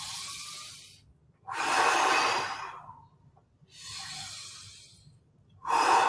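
Long, deep breaths during an office yoga breathing exercise, slow airy inhales and exhales alternating with quiet gaps, close and breathy with a steady rhythm.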